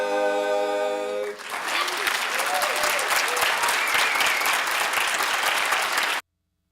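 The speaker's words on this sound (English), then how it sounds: "Let's give them another round of applause." Audience applause at a regional educators awards and scholarship ceremony: steady, dense clapping from a large crowd that follows the tail of a sung or played chord, then cuts off abruptly.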